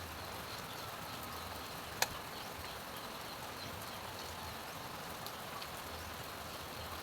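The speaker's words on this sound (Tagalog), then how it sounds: "bawi-bawi ra pud ning ulan ah." Steady rain patters in a soft, even hiss, with a single sharp tap near the start and no voices.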